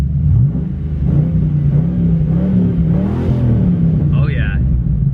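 A Mustang Foxbody with a MagnaFlow exhaust idles with a deep, loud rumble close by, then its pitch swells as the engine revs up. A brief voice is heard near the end.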